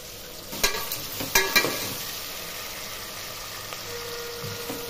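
Spices for sambar fry in hot oil while a spoon stirs them, giving a few sharp scraping clicks early on over a quiet, steady sizzle, close and alone without voices.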